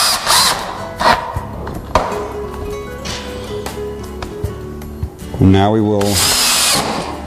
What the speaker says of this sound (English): continue with screwing the rails all the way around until we've filled all the holes completely